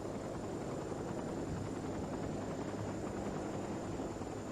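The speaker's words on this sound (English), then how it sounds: "A life flight helicopter transported Trista the 17 miles to Eggleston Children's Hospital." Rotor and engine drone of a life flight medical helicopter in flight, a steady, broad roar that holds at a constant level with no voices over it.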